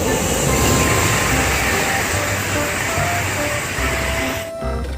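A toy high-speed train gives a close, loud, continuous whirring rumble with faint squeals and rattles, holding steady for several seconds before easing slightly near the end.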